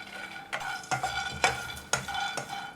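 Peanuts roasting dry in a kadhai, stirred with a metal spatula that scrapes and knocks at regular intervals over a steady soft rustle of rattling nuts, close and fairly quiet.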